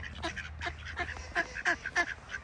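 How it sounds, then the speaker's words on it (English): Ducks at a Highland loch quack in quick, rough bursts close by, several birds calling over each other in a busy, irregular chorus. "Getting ducks swarming us now."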